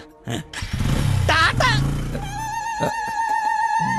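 A motorcycle engine runs steadily close by, its drone rising and settling, while people talk over it.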